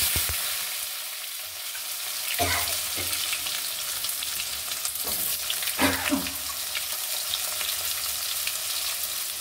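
Vegetables such as pumpkin frying in a pan with dry chilli, bay leaf and five-spice, a steady close sizzle with a few louder stirring scrapes and bumps midway, no talk.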